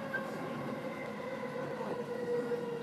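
A Chuo Line train pulls into Tachikawa station, a steady rumbling hum with faint rising and falling tonal whines as it slows, heard from inside a carriage with no talking.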